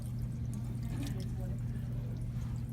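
Warm tap water runs steadily while hands are rinsed under the faucet during aseptic handwashing, a continuous close pour and splash with a low hum behind it.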